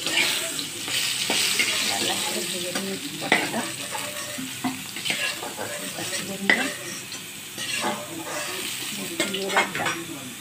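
Pointed gourd frying in a pan for a vegetarian Bengali meal, a steady sizzle with repeated scraping and stirring knocks of a utensil throughout, close and moderately loud, with no talking.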